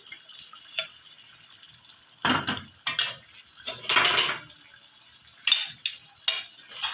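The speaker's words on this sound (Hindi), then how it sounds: "अच्छी तरह सारा इसको साफ कर लेंगे बाउल को।" A metal utensil scrapes around a bowl while mutton korma is prepared in a home kitchen, giving several short clustered bursts of scraping and clinking with quiet pauses between, close and moderately loud.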